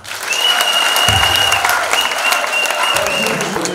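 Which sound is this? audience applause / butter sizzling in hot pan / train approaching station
audience applause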